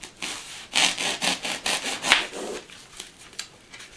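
Hand saw cutting a 30-degree angle, a series of rhythmic rasping strokes about four per second, fairly close and moderately quiet, with no talking.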